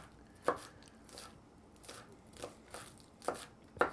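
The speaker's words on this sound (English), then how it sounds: "Just slicing these up." A knife slices scallions into thin rounds on a cutting board, several quiet, crisp, irregular chops close by with short gaps between them and no talking.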